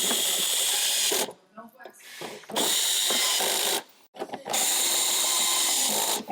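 A power driver runs in bursts as screws go through checker plate into a plastic housing, with two long whirring runs separated by a short pause and brief gaps, loud and close.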